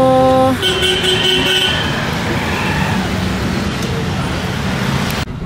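Dense city traffic heard from inside a taxi during the evening rush hour, with a car horn honking near the start and a steady roadway roar throughout.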